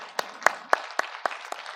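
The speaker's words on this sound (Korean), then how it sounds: "하나님께 영광의 박수 드리겠습니다." A congregation claps at a church Christmas service in Gwangju: about six sharp, evenly spaced claps in a steady beat, fairly faint and a little distant, with no talking.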